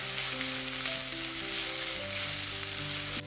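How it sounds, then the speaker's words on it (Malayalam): Onions frying in a pan give a constant, close, loud sizzle with little variation, ending with a slight drop. "സവാള എല്ലാം ഒന്ന് വാടി വരണം. അതുവരെയും ഒന്ന് ഇടയ്ക്കിടയ്ക്ക് ഒന്ന് ഇളക്കി കൊടുക്കുക."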